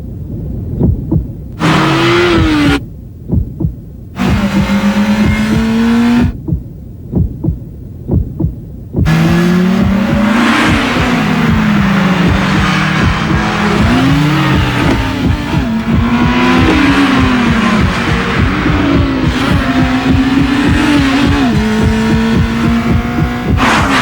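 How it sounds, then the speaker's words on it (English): A 200 horsepower Acura RSX engine in a TV commercial, loud and close, throbbing and rising and falling in pitch as it revs, after a few short opening bursts. "The all-new 200 horsepower Acura RSX."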